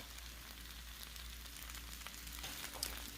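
Potatoes and onions frying in preheated oil in a skillet, a steady faint sizzle and crackle with a low hum underneath, no voices.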